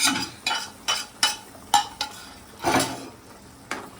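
Carrot halwa with fried cashews, raisins and khoa being stirred in a pan, a series of about nine distinct scraping strokes of a spoon against metal in an uneven rhythm, close and moderately loud.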